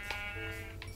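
A single short sheep bleat from the Minecraft video game, a clear electronic-sounding animal cry heard alone at moderate loudness.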